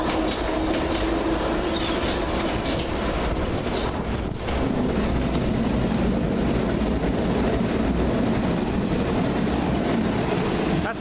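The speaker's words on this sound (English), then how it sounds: "More Piccadilly stock." A London Underground Piccadilly line train passes at Stamford Brook. Loud, dense rumble and roar of wheels on rails, with rhythmic clatter filling the whole stretch, close by and continuous.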